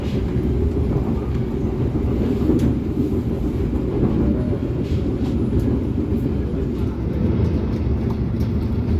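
Harina economy premium train running on the Bandung–Cikampek line at a limited 50–60 km/h, heard from inside the carriage as a steady, loud low rumble with faint rail clatter throughout.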